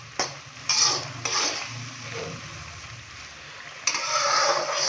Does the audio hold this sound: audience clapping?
no